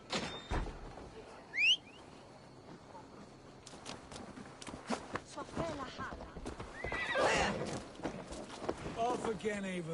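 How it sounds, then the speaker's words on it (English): A horse whinnies amid clopping hooves and a busy Assassin's Creed Valhalla game soundscape, with rustling, clanks and movement; the neigh is brief and fairly clear over the clutter. "Basim, Eivor, to horse!"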